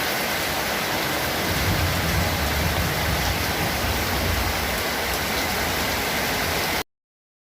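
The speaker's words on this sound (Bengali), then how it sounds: "কি বৃষ্টি হচ্ছে তারপরও বিদ্যুৎ চমকাচ্ছে বৃষ্টি হচ্ছে" Steady, dense hiss of heavy rain pouring continuously, loud and close, with a low rumble underneath, cutting off abruptly near the end.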